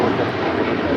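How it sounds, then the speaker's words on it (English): Boeing 777-300ER jet of China Eastern Airlines departing LAX on a flight to Shanghai, a loud, steady broadband engine roar that holds constant throughout, with no talk over it. "This is China Eastern Airlines Flight 586 departing to Shanghai on a 777-300ER."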